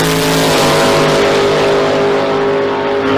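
A 1968 Camaro drag car in a Power Adder class storms down the strip, its engine roaring loud and steady under hard acceleration for the whole stretch, with no voices over it.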